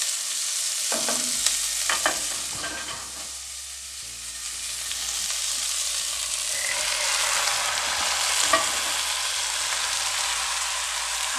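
Meat and onions for gyros fry in a Dutch oven, a steady broad sizzle with occasional scraping stirs near the start, close and continuous with no talking.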